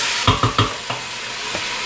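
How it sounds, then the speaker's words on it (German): Minced beef browns in a hot pan, giving a sizzling hiss broken by three quick scraping stirs and a couple of lighter taps. "Ja, ich lasse jetzt das Hackfleisch krümelig anbraten und dann geht's weiter."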